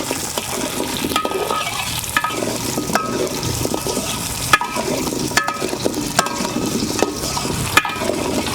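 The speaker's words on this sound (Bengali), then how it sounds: "সবজিগুলো একটু ভাজা হলে তারপরে।" Potatoes and vegetables frying in a pan for temple-style bhog khichuri: a steady, close sizzle broken by sharp scraping clicks of stirring, with no voices.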